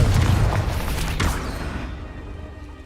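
Confringo blasting spell cast in Hogwarts Legacy: a loud, heavy boom bursts at the start, a second blast lands about a second later, and both roll off into a fading rumble.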